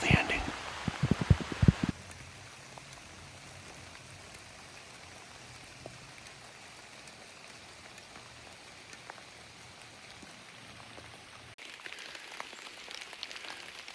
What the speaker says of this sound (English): It's still a hard drizzle, light rain.